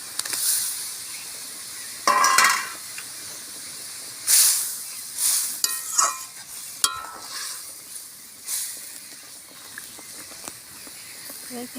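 Sliced flat beans hit hot oil and sizzle while being stirred, a soft steady hiss broken by scraping bursts of the spatula against the pan, close and fairly quiet.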